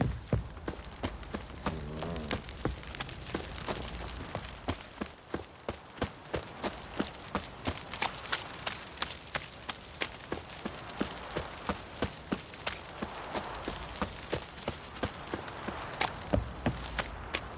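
Horse hooves clip-clop in the video game The Witcher 3, a steady, evenly spaced trot that runs for the whole stretch at moderate loudness over a soft background of game ambience.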